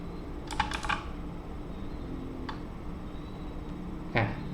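Someone types on a computer keyboard in a quiet room: a quick cluster of key clicks, then a few isolated keystrokes over a faint background hum.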